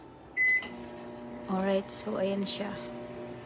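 A microwave oven starts heating food for one minute: a few sharp keypad beeps followed by a steady low hum, with a person talking briefly over the running oven.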